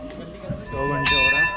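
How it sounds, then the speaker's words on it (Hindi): A temple bell is rung at Surkanda Devi Temple. It gives a bright metallic strike with a ringing tone that carries on, heard close by alongside murmured voices. "ये भाई दोबारा आई घंटी बजाने के लिए"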